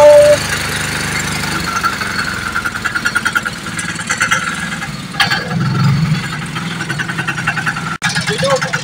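A solid concrete block making machine runs with a loud mechanical engine drone and rapid rhythmic knocking and vibration, close and steady, while a voice talks over it.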